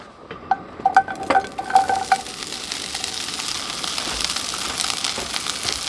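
Beef sizzling in a pan heated on a camp stove during winter teardrop trailer camping, with a few clinks of utensils against the pan early on, then a steady close frying hiss that carries on alone.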